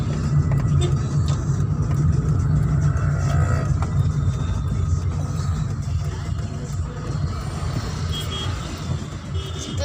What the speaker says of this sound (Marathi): गाडी चालव गाडी चालव गाडी चालव